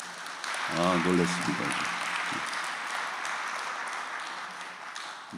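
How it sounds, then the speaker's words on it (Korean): At a church's end-of-semester closing worship service, someone speaks briefly before the congregation breaks into warm, sustained applause. The clapping stays even and moderately loud, then slowly thins toward the end. "박수 한번 다시 한번 보내주십시오"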